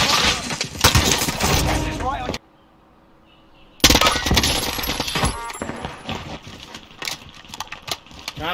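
Gunfire rings out in the Warzone battle royale shooter, with bursts of shots and impacts around a sudden near-silent gap, loud and dense, mixed with game effects and voices talking over the action.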